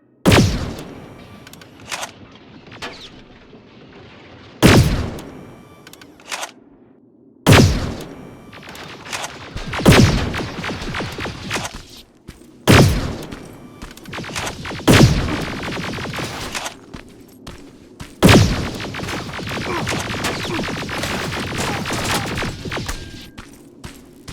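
Bursts of automatic gunfire hammer at a Terminator in the video game Terminator Resistance. Loud, repeated volleys of rapid shots come in clusters separated by brief pauses, with heavy thuds and a sustained rattling barrage toward the end.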